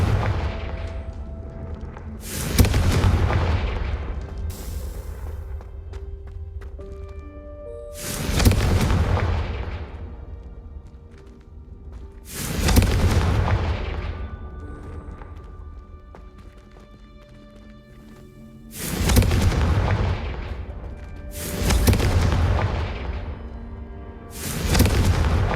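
Repeated fiery blasting-spell explosions in the game Hogwarts Legacy, roughly six heavy booming bursts spaced several seconds apart, each swelling and decaying, with quieter ambient sound and game effects in between.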